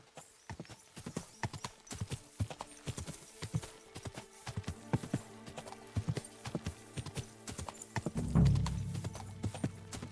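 Steady hoof clip-clops beat out a walking rhythm throughout in Kingdom Come: Deliverance II, with a brief horse snort or whinny near the end.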